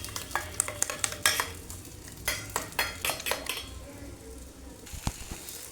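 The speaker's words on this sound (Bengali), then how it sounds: "ডিমটা ভাজবো" An egg fries quietly in a pan while a metal spatula clinks and scrapes against it in quick irregular taps, with a soft sizzle underneath.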